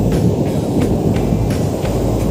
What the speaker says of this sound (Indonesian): Anginnya lumayan kencang ini